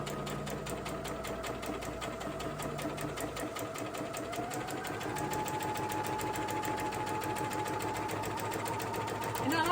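Sewing machine back stitching curtain fabric, its rapid even needle chatter running steady throughout and picking up slightly in pace partway through, with a voice talking over it.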